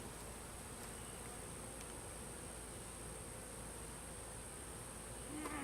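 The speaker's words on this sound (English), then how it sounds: "there's still bees running around with full pollen sacs on there." Honeybees swarming over an open, brood-filled beehive make a steady, dense buzzing hum that stays even throughout, fairly faint and without any talk over it.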